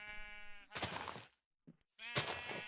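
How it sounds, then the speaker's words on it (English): Sheep in a video game bleating twice, each a loud, close, wavering call with a short pause and a faint knock between them. "Come here, sheep."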